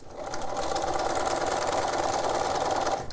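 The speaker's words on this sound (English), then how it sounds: "when we get to our old seam line, we're turning that corner and stitching" A sewing machine stitches straight across a romper seam at the waistband corner, a steady, close, fast mechanical whir that runs without pause for about three seconds.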